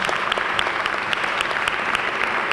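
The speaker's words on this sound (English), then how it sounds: "Give her a round of applause." A crowd gives a steady, dense round of applause at a Jersey City Youth Court induction ceremony, continuous and fairly close throughout with no talk over it.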